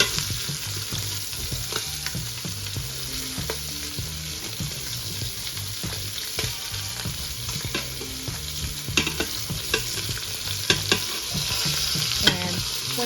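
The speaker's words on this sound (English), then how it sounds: "so as it browns, I'm going to take it out and put another piece in." Oxtail browning in an Instant Pot, pieces sizzling and frying steadily with stirring scrapes, fat spattering and clattering utensil sounds throughout, plus running water in the background; fairly loud, continuous, no talk.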